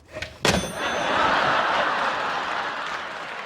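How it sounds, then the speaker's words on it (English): Audience applause in a Seinfeld scene, opening with a sharp slam and a brief laugh, then a swelling wash of clapping from a studio crowd that holds steady and slowly fades. "Standing ovation. The crowd loves it. And the crowd goes wild."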